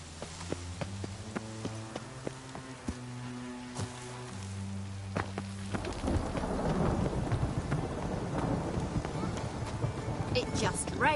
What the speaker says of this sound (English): It just rains and rains